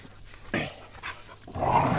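A dog gives three short, gruff barks or growls in quick succession, each a brief close burst separated by quiet pauses.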